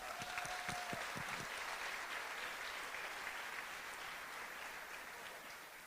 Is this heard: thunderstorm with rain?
no